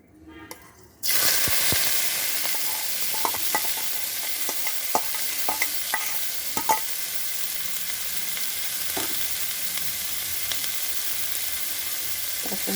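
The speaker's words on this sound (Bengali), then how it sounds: "এখন দিয়ে দেব পেঁয়াজ আর লঙ্কা কুচিটা" Chopped onion and green chilli fry in salted oil in a pan, a steady close sizzle with repeated scraping stir strokes that starts abruptly after a brief quiet opening.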